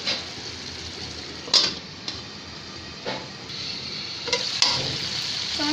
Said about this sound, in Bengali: তো আমার চিংড়ি মাছটা ভালোভাবে মশলার সাথে কষিয়ে নিয়েছি